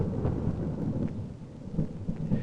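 Thunder rumbles low and steadily through an electrical storm, mixed with the continuous hiss of rain, filling the whole stretch without a break and with no voices.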